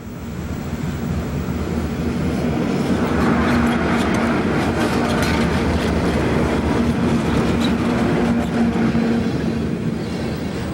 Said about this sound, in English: Southbound MGA 2302 meets a northbound MGA train at Wana Junction